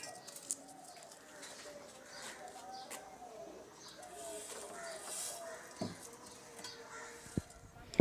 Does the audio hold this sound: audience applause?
no